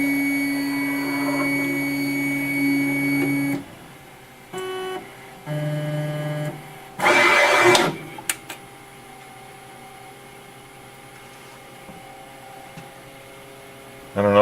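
A Charmhigh CHMT48VA pick-and-place machine zeroing its axes, with whirring stepper-motor moves in short separate bursts over a steady electrical hum, then a quieter stretch.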